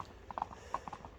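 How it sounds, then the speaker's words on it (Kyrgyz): A horse walks on a rocky, stony road, its hooves making a close, uneven clip-clop of about eight distinct strikes over a faint background. "Ушундай таштак жолдо сынап атты көрсөтөлү."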